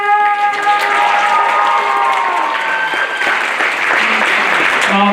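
Loud, sustained applause and cheering from a crowd at a high school senior class event, dense clapping filling the whole stretch, with tonal background sounds and some voices mixed in.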